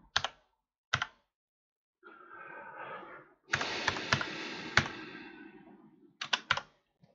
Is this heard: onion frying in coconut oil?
no